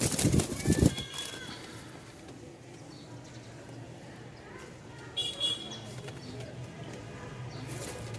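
A male Lahori pigeon coos in soft, low murmurs, set against a quiet room ambience that opens with a brief louder rustle.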